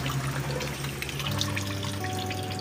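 Tap water runs steadily into a cooking pot, a continuous close pour and trickle with the pitch rising slightly as the pot fills, no talking over it.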